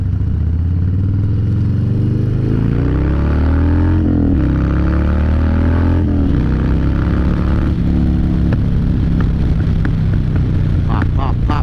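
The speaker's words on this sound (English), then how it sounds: "Pop, pop, pop, pop, pop. This bike is so much fun. Sounds great." A motorcycle engine roars close by while riding, revving up through gears with crackling pops and clatter near the end.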